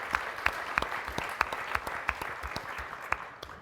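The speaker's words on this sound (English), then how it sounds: "giving them a big round of applause" An audience applauds a panel of government AI experts, a steady wash of clapping with sharper individual claps standing out, fading slightly toward the end.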